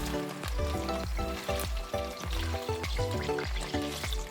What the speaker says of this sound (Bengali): তেলটা অল্প গরম হয়ে গেলে কপিগুলো দিয়ে দেব।